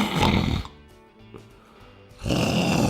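A person wearing an anti-snoring wrist device that delivers an electric shock snores twice, with loud rasping breaths at the start and end and a quieter, pulsing stretch between them, close to the listener.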